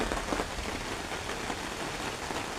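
Rain drizzles onto a yard, a quiet, steady patter of drops with slight swells in intensity and no one speaking.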